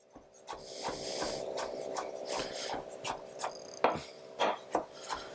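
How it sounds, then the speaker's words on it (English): A chef's knife chopping tomato chunks on a board, a series of close, crisp, irregular knocks and cuts, some quick and clustered, with no talking. "Take your chef's knife and just give it a quick chop"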